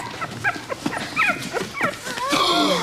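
A small puppy, found abandoned in a box of junk, lets out a run of high, wavering whimpers and thin yips close by, getting more insistent toward the end.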